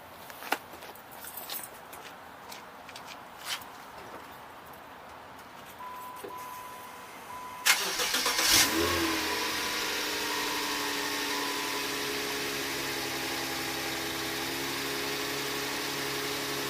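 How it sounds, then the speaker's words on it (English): Faint clicks and handling noises come first, then a Subaru car engine cold-starts with a sudden burst, settles into a steady, fairly loud idle and keeps running. "How about a little cold start, LOL, on the Subaru?"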